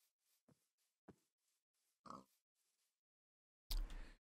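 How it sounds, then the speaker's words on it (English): Pigs oinking in Minecraft, several short grunts spaced apart at low level with quiet gaps, ending in a louder, closer snort. "I may kill all these pigs as well."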